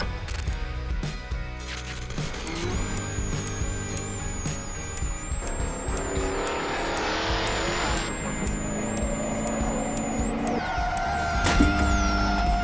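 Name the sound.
Chitty Chitty Bang Bang Ford custom car driving, from movie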